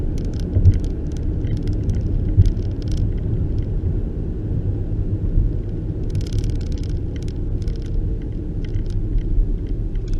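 A car drives down the road with its brake lights on, giving a steady low rumble of engine and tyres from inside the vehicle, with faint intermittent rattles or clicks over the continuous drone.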